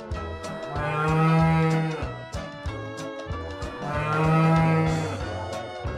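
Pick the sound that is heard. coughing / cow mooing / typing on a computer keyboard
cow mooing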